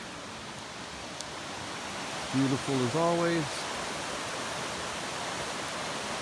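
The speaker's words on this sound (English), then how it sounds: "And then here's the creek." Creek water flowing in the mountains on the way from Clingmans Dome to Noland Creek, a steady full rush of water that continues throughout, with a voice speaking briefly over it.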